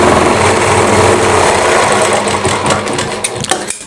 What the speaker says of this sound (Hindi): इस तरीके से अब हम ऊपर साइड सिलाई लगा देते हैं।